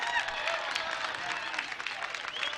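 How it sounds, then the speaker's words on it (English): A church-style gathering audience gives a big round of applause for a man named Anthony, a dense, steady patter of many hands clapping throughout, fairly loud with some cheering mixed in. "you need to give him a big round of applause this morning"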